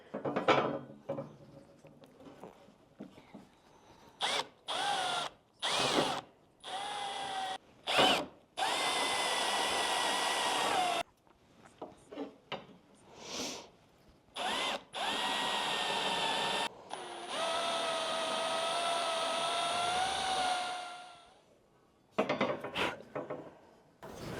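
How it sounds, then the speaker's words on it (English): A power tool sands out holes in a new catamaran bowsprit, running in repeated loud whining bursts of a few seconds each, separated by short pauses. "I'm going to use a brand new tool. This is actually iteration 2 on this one, a little bit wider. And we'll see if I can't get these holes sanded out today."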